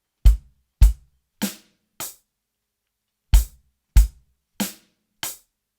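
A beginner drum rhythm mixing bass drum and snare: eight crisp, close hits in two groups of four separated by a short pause, each group starting with deep bass kicks and ending with snare strokes, with no voices.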